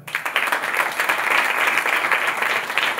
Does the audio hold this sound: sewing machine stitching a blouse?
no